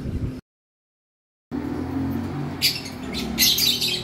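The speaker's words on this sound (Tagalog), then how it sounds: "Mayroon po tayong mga ibon po dito na pang-out po." Lovebirds in an aviary let out sharp squawks and chirps over a low background hum; a brief stretch of total silence comes first, then the calls burst out in quick clusters.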